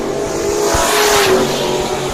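Street stock race cars on a dirt raceway roar close by, a loud steady engine drone with a rising rev, racing through turns three and four on the final lap of a heat race.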